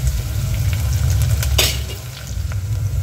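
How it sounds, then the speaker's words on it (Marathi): Onions sautéing in a pan for Maharashtrian masale bhat, a steady close sizzle with stirring scrapes throughout and a brief louder hiss midway. "आणि कांदा हे सगळं टाकून द्यायचं आहे. आणि याला छान परतवायचा आहे."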